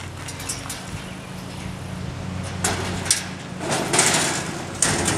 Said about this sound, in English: I'll put these nice little doors down.